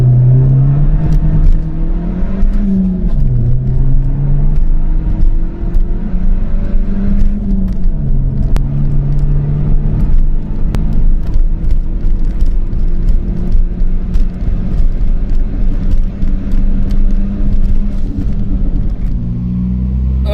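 A 245-horsepower BMW 114i accelerates hard through a quarter-mile run, its engine droning loud and steady with rising pitch sweeps as it climbs through the gears, backed by constant road and wind rumble.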